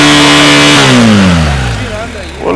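A new BMW 1250 motorcycle engine revs up close and loud, then the pitch slides down as it settles back, ending with a short burst of speech.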